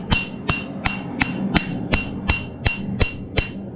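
Steel hammer strikes forging a bevel near the edge of a knife made from a horseshoe, about ten sharp ringing blows in a steady rhythm with slight metallic ring between, close and alone.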